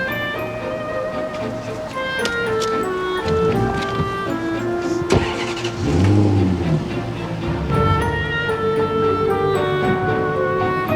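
A car driving off in a scene from a Turkish drama: an engine swells and fades midway, mixed under steady background music, at moderate loudness.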